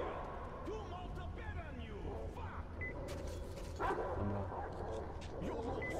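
Dogs bark and yip in the video game Metro Exodus, short scattered calls at low volume under a player talking.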